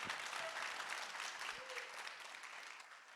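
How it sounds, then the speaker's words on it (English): Audience applause for panelists at an evening documentary screening and panel discussion, a dense, steady wash of many hands clapping that fades slightly toward the end. "Please clap it up for the panelists."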